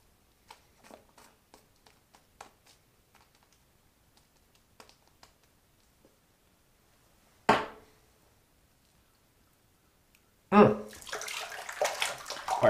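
Water from a tap runs over a hand being rinsed of shave soap lather, a close splashing gush that starts abruptly near the end after scattered small clicks and taps.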